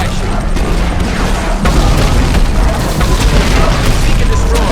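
An explosion from the video game Command & Conquer 3: Kane's Wrath as a beacon is destroyed, a loud booming crash that flares around the second mark and leaves dense rumbling debris noise afterward, with game voice lines in between.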